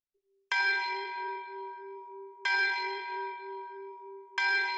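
Church bells ring urgently as a retreat signal, three loud clangorous strikes about two seconds apart, each leaving a long shimmering ring that decays under the next.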